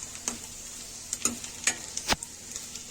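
A soft sizzle of onion and coconut roasting in a pan runs under a few sharp scraping clicks of a spatula against the pan, stirring at a slow, irregular pace.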